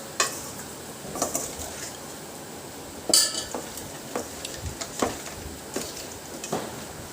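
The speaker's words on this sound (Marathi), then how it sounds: "हे व्यवस्थित मिक्स करून घ्यायचं आहे याला, हळद आणि मीठ।" Onions stirred with turmeric and salt in a pan, a spoon scraping and clinking against the metal in irregular strokes over a soft background sizzle, close and moderately loud with no talk.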